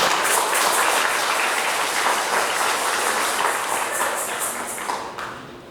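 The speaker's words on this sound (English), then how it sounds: "Give yourself a round of applause." Festival audience at a cultural event breaking into applause, a bright, dense patter of clapping that holds steady and then fades out near the end.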